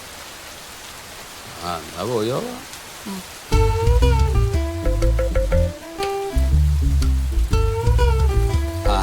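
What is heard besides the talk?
rain falling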